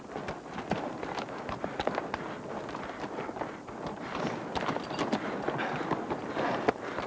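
Many hooves clip-clop steadily on hard ground, several horses walking together at close range over a low murmur of movement.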